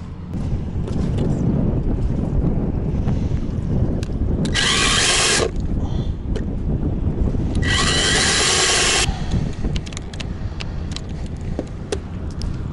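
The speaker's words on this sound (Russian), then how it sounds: "Сейчас мы просверлим дырки для того, чтобы его установить." Two bursts of a high whining power drill, each a second or so long, drilling holes aboard a yacht in the Caribbean, cut through steady engine and water noise nearby.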